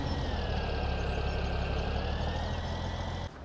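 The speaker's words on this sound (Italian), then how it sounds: "quando parte il trattore fa la sgommata." A tractor engine in Farming Simulator 17 drones steadily with a whine as it pulls away with wheelspin, then drops in level just before the end. No voices are heard.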